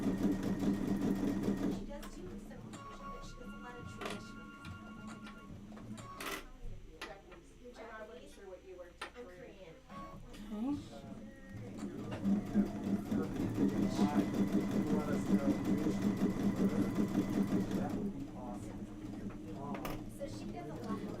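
A sewing machine stitches Kimberbell Lori Holt Zippy Bag panels in a sewing shop, running in steady bursts with pauses, under frequent talk from women nearby.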